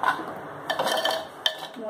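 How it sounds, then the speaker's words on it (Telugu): A spoon stirs prawn and egg curry in a clay pot, scraping and knocking against the pot in a couple of short, fairly loud strokes with a light clink near the end. "ఒకసారి బాగా కలుపుకొని"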